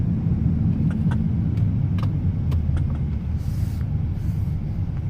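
Car interior while driving, steady low road rumble and engine drone filling the clip, with a few faint clicks and rattles on top and no talking.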